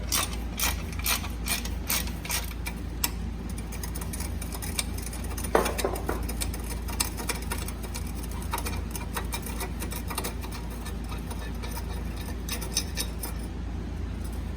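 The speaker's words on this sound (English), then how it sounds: "now we need to remove this bolt that also secures the mid pipe, but this one secures it to the block" A ratchet with a 13mm deep socket works loose an exhaust mid pipe bolt on a Fiat 500, steady rapid clicking of the pawl, close and clear, continuing through the clip with a brief metallic clunk midway.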